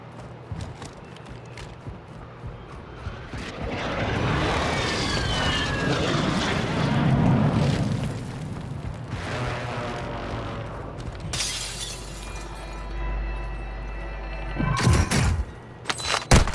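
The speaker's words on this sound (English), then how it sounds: "Hostile airstrike near your location." Airstrike explosions in a video game, a series of heavy rumbling blasts and debris crashes building in the middle, then sharp loud impacts near the end.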